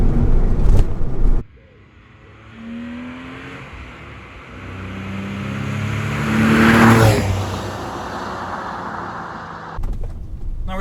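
A Porsche 996 engine revs and pulls through the gears while driving, a loud surge that climbs and swells into a strong peak before easing back to a steadier cruising drone.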